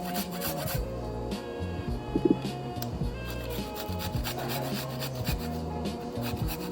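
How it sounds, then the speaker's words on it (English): Carrot being grated by hand, a close, repeated rasping scrape in steady strokes with short pauses between them. "And grate carrot"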